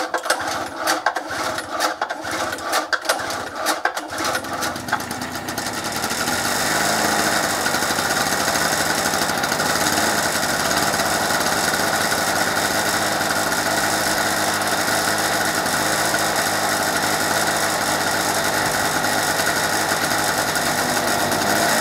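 A 2-stroke generator engine, run for the first time after two years unused, is pull-started with several quick rasping cord pulls before catching and settling into a loud, steady, buzzing idle that runs on unchanged for over fifteen seconds.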